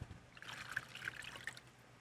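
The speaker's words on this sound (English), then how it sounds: "pour the rest of our oil" Oil pours into a Ziploc bag holding chicken pieces for marinade, a faint close trickle with small liquid gurgles and splashy ticks lasting a couple of seconds, with no talk.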